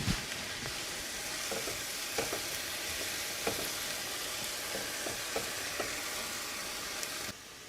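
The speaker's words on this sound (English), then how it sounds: "You're going to give it a good stir." Teriyaki beef with mushrooms and broccoli sizzles steadily in a pan while a utensil stirs it in occasional scraping strokes, close and even, until the sizzle drops off abruptly at the end.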